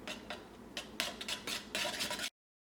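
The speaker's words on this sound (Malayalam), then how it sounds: "ഇനി ഇതൊന്ന് മിക്സ് ചെയ്തെടുക്കാം." A utensil scrapes and swishes through thick ice cream batter in a bowl set in ice water, in quick irregular strokes, close up, then stops abruptly.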